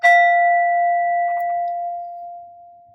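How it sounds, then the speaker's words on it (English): A single bell strike rings clear and loud, its pure sustained tone slowly decaying over about three seconds, heard alone. "let's just ring the bell here and clear that energy out"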